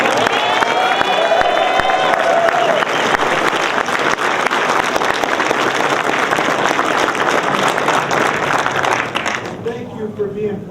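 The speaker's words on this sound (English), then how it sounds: "how about a round of applause for Bob Ferguson?" Sustained clapping and some cheering from a crowd at a Washington State ethnic legislative reception, loud and dense for about nine seconds before it thins out, with a voice speaking over the start.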